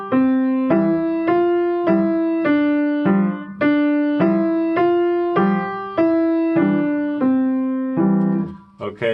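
Piano played with both hands together in a beginner lesson, a steady repeating pattern of struck notes with a higher melody over lower notes, close and clear, no talking.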